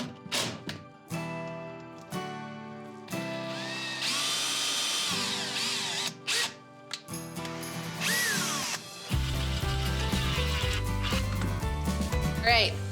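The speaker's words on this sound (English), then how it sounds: "I'm gonna use a really small drill bit to drill a pilot hole" A small drill bit bores a pilot hole in wood during a fluted coffee table build; a close, loud power drill whines in several bursts with clicks and thunks between them.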